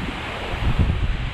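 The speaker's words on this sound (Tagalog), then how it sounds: "Napakalakas po ng hangin." Strong wind roars as a dense, close rumble buffeting the microphone, swelling briefly near the middle of a short burst.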